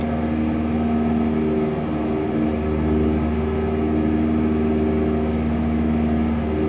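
A light aircraft engine drones steadily near full throttle while cruising around 3,000 feet, a loud continuous hum with strong tonal harmonics that holds almost unchanged throughout, with no voices.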